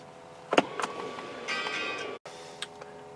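A Tesla Model 3 drive unit fitted in a 2006 Ford Mustang engages park, giving a short mechanical whir and a few clicks and ticks, fairly close and otherwise quiet.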